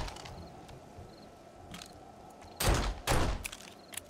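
Two loud, sharp broadband bursts of pistol gunfire from the video game 7 Days to Die ring out in quick succession near the end, over a low steady game background with faint distant thuds.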